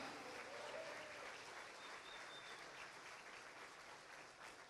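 A church congregation applauding with joy and gratitude during a sermon, a dense steady roar of many hands heard from a distance that tapers off slightly toward the end.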